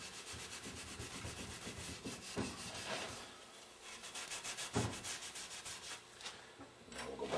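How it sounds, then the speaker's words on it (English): A Scotch-Brite abrasive pad scrubs a metal part of a Meyer E-60 hydraulic pump during a rebuild, making faint, close, rhythmic rubbing strokes with a few sharper scrapes. "try back our Scotch-Brite abrasive pad"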